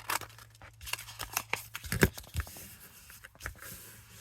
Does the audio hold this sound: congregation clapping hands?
no